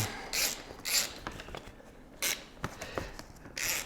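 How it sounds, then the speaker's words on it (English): Subframe bolts being threaded back into a 2017 KTM 300 XC dirt bike, heard as close metallic clicks and scraping ratchet-like bursts in an irregular rhythm, with no talking. "Now that I've got the carburetor installed, I'm going to put my subframe bolts back in."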